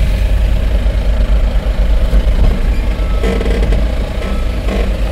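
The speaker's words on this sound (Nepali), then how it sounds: "यता ट्र्याक्टर आइरहेको छ गङ्ग्रेङ गङ्ग्रेङ" A tractor engine drones loud and close in a steady, heavy rumble on a street near a construction trench. Other traffic noise sits underneath.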